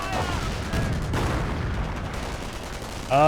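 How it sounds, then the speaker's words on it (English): Strafing-run gunfire from an aircraft in the WWII strategy game Company of Heroes, a sustained rattling barrage of rapid shots and booms over battle noise, fairly loud throughout with a sharper burst at the very end. "Strafing run from the US player."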